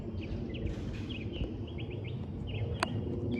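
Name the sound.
birds chirping in the distance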